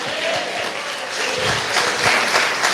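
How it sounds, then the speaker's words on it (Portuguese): A church congregation claps in a continuous, even wash of applause that stays loud and dense throughout the short moment. "Palmas são para Jesus."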